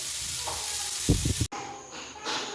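Onion, tomato, green chilli, ginger and curry leaves sauté in a pan, giving a steady close sizzle with a brief burst of stirring scrapes partway through, then a quieter, thinner hiss.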